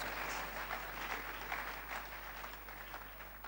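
Audience applause in a lecture hall welcoming a speaker at an advancement lecture series, a steady wash of clapping that stays fairly even and moderately distant throughout, with no voices over it.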